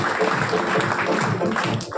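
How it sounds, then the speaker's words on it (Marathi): An audience gives Ravi Patil a round of applause, a continuous, fairly loud patter of many hands that holds evenly and eases slightly at the end. "रवी पाटील सरांच्यासाठी एकदा जोरदार टाळ्या होत्या."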